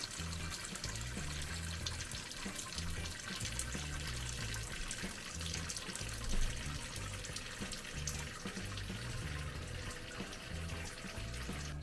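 Sparge water runs steadily into a Grainfather G40 homebrew system, a continuous close splashing trickle like a filling sink with a low rhythmic pump hum beneath it and no talk.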